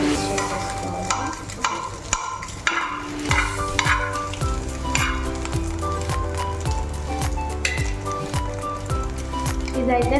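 Egg gets stirred through noodles frying in a hot pan, with continuous loud sizzling and repeated scraping strokes from the spatula, up close while a person talks over it.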